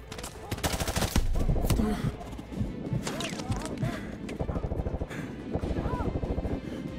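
Rapid bursts of gunfire from Call of Duty: Modern Warfare 2 Remastered, loud and repeated in clustered volleys across the whole stretch, with players talking over the shooting.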